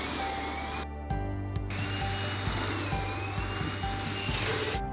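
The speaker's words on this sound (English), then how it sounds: "We're now going to drill 4 holes in the tub wall" A drill works on a bathtub wall, its motor whining loud and close with a steady ratcheting tick and a short break near the start.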